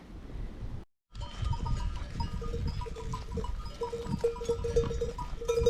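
Sheep and goats of a shepherd's mixed flock bleat repeatedly over a steady rustle of livestock, with an abrupt brief dropout near the start before the flock noise resumes.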